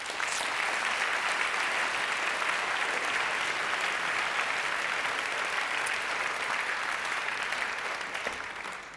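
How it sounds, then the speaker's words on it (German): Audience at the Swiss Film Awards ceremony breaking into sustained, dense applause, a full room clapping loudly and evenly with no voices over it. "Ich glaube, das ist einen Applaus wert,"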